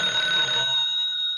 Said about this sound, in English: Just when things start getting dull, the phone rings.